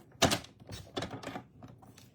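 A paper strip for a handmade card is cut with a trimmer, giving several close, dry clacks and slicing scrapes in an uneven run, with no voices.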